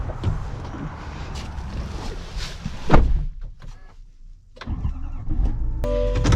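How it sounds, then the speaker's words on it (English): A 2025 Chevy Silverado ZR2 HD pickup truck pulls away, its engine rumbling steadily at close range, with a brief dip partway through and a clicking, whirring accessory sound near the end; nobody speaks. "Well, let us set off in the ZR2."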